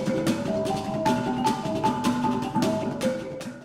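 Kulintang, a Philippine folk row of bronze gongs struck with padded mallets, ringing steadily with clear melodic pitched strikes over a dense continuous ensemble texture, close and moderately loud with no talking.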